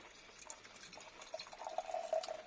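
Weston's Cloudy Vintage medium dry cider pours into a glass, a quiet liquid trickle and splash that builds as the glass fills, heard close up with no voices.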